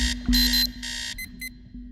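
A cartoon game alarm rings loud and close as a series of bright, harsh electronic buzzer bursts, several long blasts followed by two shorter ones, over a low steady hum.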